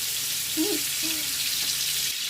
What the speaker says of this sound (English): this is just to give it a nice sear, not to cook it